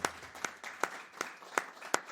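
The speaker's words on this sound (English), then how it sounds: "Very kind people you are to clap for such things." An audience at a songwriter's storytelling performance claps in brief, fairly regular bursts. The applause is modest and somewhat distant, with no voices over it.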